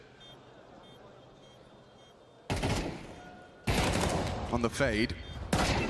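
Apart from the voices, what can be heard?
gunfire in a competitive video game match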